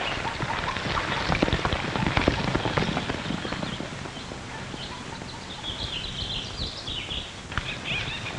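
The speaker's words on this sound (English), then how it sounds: "Steve, that could be the horse that outran us." Horse hooves clip-clopping in a 1941 western film, an irregular patter of hoofbeats over steady background noise, with a faint high whinny-like tone later on.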